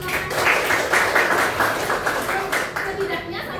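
A classroom audience claps for Mas Nana, a dense patter of hands at close range lasting several seconds, with voices mixed in beneath the clapping.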